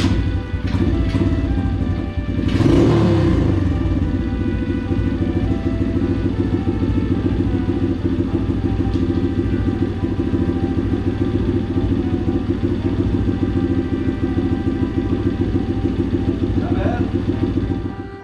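A small engine fitted with a Mikuni VM26 carburetor idles steadily with an even low rumble and faint clatter, close and constant throughout.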